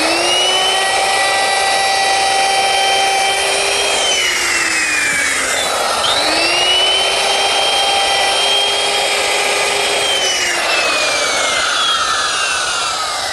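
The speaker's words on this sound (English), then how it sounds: "My router is set up with a 1/4 inch radius beating bit with this little ball bearing on it" A router fitted with a quarter-inch radius ball-bearing bit cuts along the edges of a wooden desk leg, a loud sustained high whine whose pitch dips and recovers as the bit bites into the wood.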